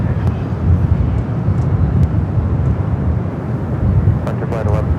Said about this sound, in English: the Dreamliner heading back to Tokyo Narita, heading up here for north side at takeoff